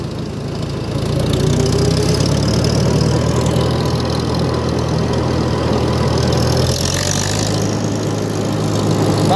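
A Farmall 350 tractor engine runs steadily, close and loud. It gives a continuous low mechanical drone that stays even, then shifts slightly in pitch near the end.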